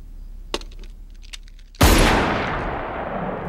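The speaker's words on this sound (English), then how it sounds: "Gunshot over black." A single sharp gunshot sound effect at a film's ending over a black screen, a loud sudden blast after a few faint clicks, its reverberant tail ringing out and decaying slowly.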